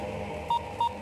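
A phone ringback tone sounds twice in short beeps while a call to a mobile goes unanswered, faint and steady, with no voices.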